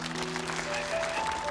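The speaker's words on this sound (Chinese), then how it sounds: "来，大家掌声鼓励一下。" An audience applauds at an office award ceremony as winning teams are announced, a steady wash of clapping with a faint tonal line running beneath it.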